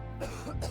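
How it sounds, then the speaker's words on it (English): Coughing fit from a hoarse, irritated throat: a couple of rough, raspy bursts in quick succession, close and fairly loud, with no talking. "I broke into a coughing fit."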